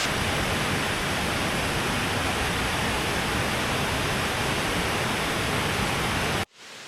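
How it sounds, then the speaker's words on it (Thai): Steady, roaring rush of falling water at the second tier of a forest waterfall, loud and continuous from up close, cutting off abruptly just before the end. "นี่คือบรรยากาศของน้ำตกชั้นที่สองนะครับวันนี้ผมย้อนลงกลับมาดูนะ"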